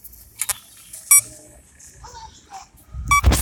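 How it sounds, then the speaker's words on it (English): A phone beeps in bright, short electronic tones, a few separate bursts over a quiet room, with a voice and other people talking in between. "is that your phone? It's mine."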